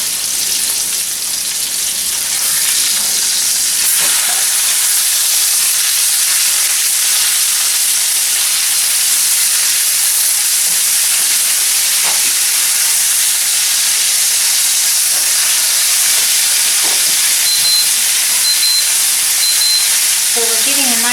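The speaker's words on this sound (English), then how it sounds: "So we're getting a nice sear on these." Pork chops sear in an iron skillet with a loud, steady sizzle and hiss that runs unbroken throughout, joined near the end by a few short electronic timer beeps.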